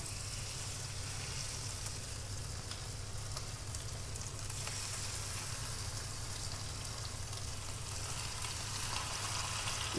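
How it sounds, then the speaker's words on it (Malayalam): Boneless marinated chicken fries gently over a low flame, a steady soft hiss of oil running without break for several seconds, with faint clicks and no speech. "ഇത് ഫ്രൈ ചെയ്തെടുക്കാം"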